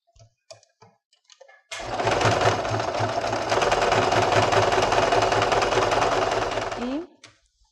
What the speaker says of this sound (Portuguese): Vamos passar o pontinho zigue-zague aqui também para fazer o acabamento